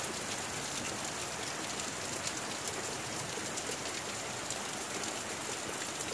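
Heavy rain pours down during a big storm, filling a backyard pool with a steady, dense hiss of drops hitting water and surfaces, constant and close throughout with no talking.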